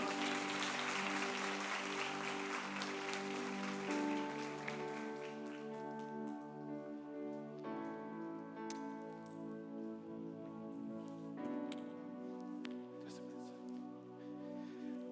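A church congregation applauds in a broad, rain-like patter that fades over the first few seconds as sustained keyboard or organ chords take over and continue alone.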